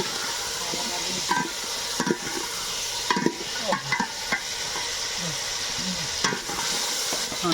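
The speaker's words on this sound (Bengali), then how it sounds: "ভালো করে একটু ভেজে নেব।" Mutton with turmeric, salt and dry chilli frying in a pan in a village kitchen, with a loud, steady sizzle and repeated scraping strokes from the stirring spoon, close up and without voices.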